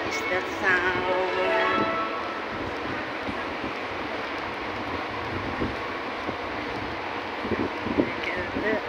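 A train rumbles at a railway station in Singapore amid gusty wind noise, with a faint horn-like tone early on and occasional clanks.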